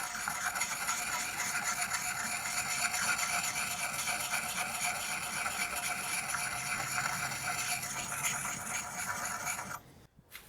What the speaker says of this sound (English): We'll finish this thing off with a 320 grit stone.